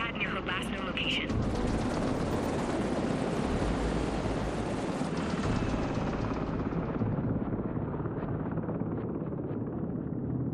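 In the video game The Division 2, a helicopter's dense rotor roar fills the scene, mixed with bursts of gunfire and combat noise, and stays loud and continuous throughout.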